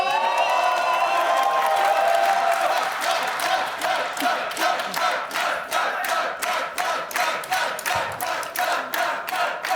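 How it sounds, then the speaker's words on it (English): Esports fans at the 2023 LEC Winter final between G2 and MAD cheer and shout loudly as a large crowd, a steady roar early that breaks into rhythmic chanting bursts toward the end. "the G2 faithful that have been cheering very loudly for you"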